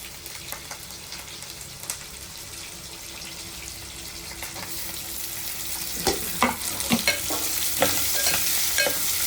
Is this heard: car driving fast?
no